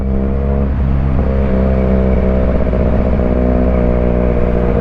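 A QJ Motor SRK 400 motorcycle fitted with an aftermarket exhaust pipe idles loud and close with a deep, steady burbling drone, lightly blipped once or twice, with no talk.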